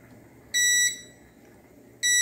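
A meter's continuity beeper during a repair test on a Philco PH40U16DSG LED TV that powers on with no picture: two short, loud, steady electronic tones separated by a pause, over a quiet hiss.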